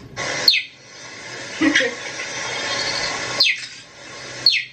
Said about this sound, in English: Cheetah, which I would take seriously if they didn't sound like this.